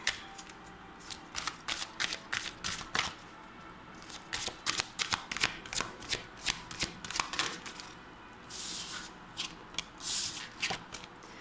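A deck of tarot cards is shuffled over and over, giving bursts of crisp riffling and flicking close by. The bursts come in an uneven rhythm and no one speaks.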